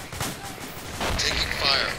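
Gunfire in a military shooter game set at the Battle of Wanat, with scattered shots and bursts under steady radio-style voices calling out.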